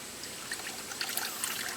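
Engine oil draining from a Hyundai Sonata during an oil change, heard as a faint, steady trickle of liquid with small splashes, no voices.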